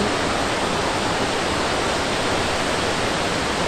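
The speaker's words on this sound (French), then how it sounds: "je me fais tremper par la cascade, elle mouille jusqu'ici" Montmorency Falls in Québec roars from right at its base, close enough for the spray to drench onlookers: a loud, steady, unbroken wash of falling water with no voices.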